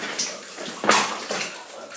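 Water splashes and sloshes in a flooded underground gold mine stope along a quartz vein, with a sharp nearby splash midway among softer, intermittent wading sounds in an enclosed space.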